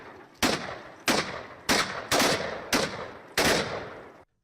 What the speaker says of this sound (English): Then gunshots are heard.